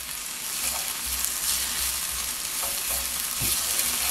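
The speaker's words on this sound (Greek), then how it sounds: "Θα προσθέσουμε το σκόρδο. Θα το σοτάρουμε για μισό λεπτό." Garlic sautés in a pan for a ham and four-cheese pie filling, giving a steady close sizzle with a few soft clicks of stirring, with no talking.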